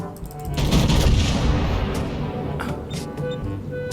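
Naval guns fire in the video game World of Warships, a heavy booming salvo followed by a long rumbling roar and crackle, loud and close, fading over a few seconds with no speech.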